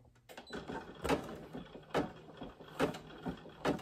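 A Brother PE800 embroidery machine shifts its hoop after trimming a jump stitch, giving a close series of short whirring motor bursts and clicks at roughly regular intervals, with no talk.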